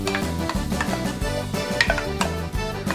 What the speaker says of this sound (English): let's get this roux here that we made about 4 days ago going